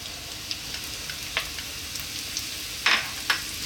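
Chopped garlic and onion frying in olive oil over high heat, a close, steady crackling sizzle with scattered sharper pops and spits, heard alone without talk.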